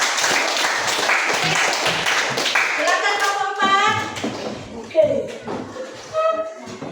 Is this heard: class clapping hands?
yes